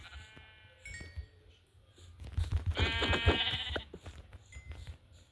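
Sheep bleat a few times in quick succession in Minecraft, wavering cries over a low rumble and some clicking game-like background noise.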